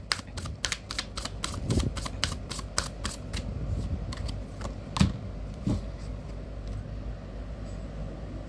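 Tarot cards being shuffled by hand, a rapid run of crisp riffling flicks and snaps close by, dense and continuous with a few louder slaps.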